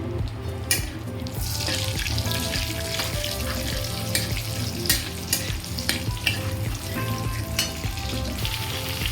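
Black cumin seeds and green chillies fry in hot oil over a raised gas flame, giving a continuous busy sizzle with crackles and stirring, without speech.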